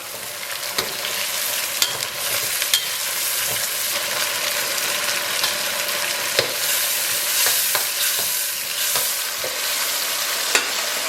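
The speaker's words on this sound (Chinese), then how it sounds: "然后来勺郫县豆瓣酱，然后咱们给它炒香" Chili sauce and Pixian doubanjiang stir-fry in hot oil, crackling and sizzling steadily with scattered spatula scrapes and taps on the wok, close and continuous with no talking.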